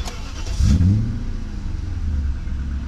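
A BMW E39 540i V8, running on ethanol, cranks and fires up with a brief rising rev, then quickly settles into a low, quiet, steady idle close by.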